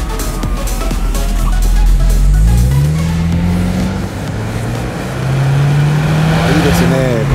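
A Subaru WRX S4 fitted with an STI performance muffler revs and accelerates, its deep exhaust note rising steadily in pitch, dipping briefly, then climbing again, loud and close, with someone talking over it.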